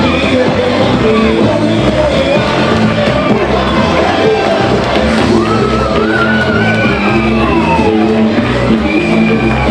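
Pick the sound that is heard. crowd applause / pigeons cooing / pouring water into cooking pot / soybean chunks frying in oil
crowd applause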